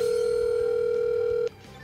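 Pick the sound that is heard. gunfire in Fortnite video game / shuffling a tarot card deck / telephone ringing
telephone ringing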